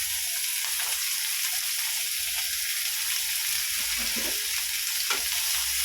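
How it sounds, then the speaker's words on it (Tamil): Thinly sliced shallots sauté in oil in a pan, giving a continuous, moderately loud hissing sizzle with occasional soft stirring knocks and no voices. "நல்லா கொஞ்சம் எண்ணெயிலேயே வதங்கணும்ப்பா"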